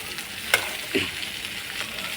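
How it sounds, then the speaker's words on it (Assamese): Sliced bitter gourd stirred in hot oil in a kadai, giving a steady close sizzle with a couple of quick spatula scrapes and no speech. "তেলৰ লগত ধুনীয়াকৈ এইখিনি মিক্স কৰি দিওঁ।"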